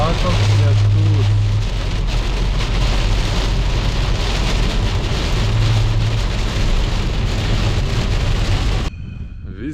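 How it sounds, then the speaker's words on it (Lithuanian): Heavy rain pours down at a campsite in Lithuania, a loud, dense, continuous hiss of drops drumming on a nearby surface that cuts off abruptly near the end. "Va, toks lietus."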